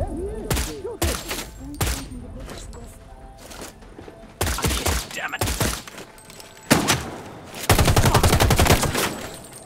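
Gunfire from the video game Sniper: Ghost Warrior 3 rings out as loud, sharp single shots with ringing echoes, followed by dense bursts of rapid automatic fire near the end.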